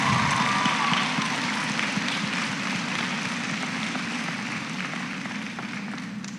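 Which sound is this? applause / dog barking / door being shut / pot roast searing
applause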